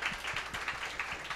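A church congregation claps in a quick, steady run of sharp hand claps through the short span, fairly close and with no speech over it.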